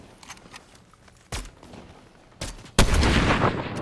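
Gunfire from a player's weapon in Fortnite: three sharp, loud shots spaced about a second apart, the last one followed by a sustained rumbling tail.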